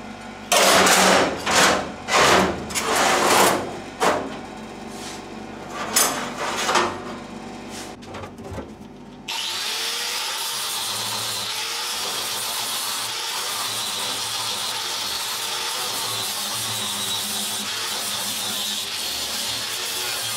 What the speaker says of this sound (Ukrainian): тепер ось ці діла я підшліфовую кутовою шліфувальною машиною